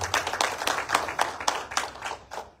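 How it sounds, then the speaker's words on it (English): Applause for UNICEF Eswatini at a financial literacy programme event, a modest crowd clapping in quick, fairly even bursts, moderately close and steady throughout with no voices over it. "A big round of applause for UNICEF Eswatini."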